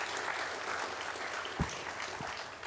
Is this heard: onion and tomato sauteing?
no